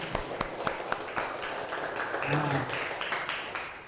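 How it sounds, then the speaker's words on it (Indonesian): Light applause from an audience at an Islamic boarding school gathering, scattered claps across the first seconds that thin out, with a voice and background murmur over the end. "tepuk tangan dulu untuk kita semua"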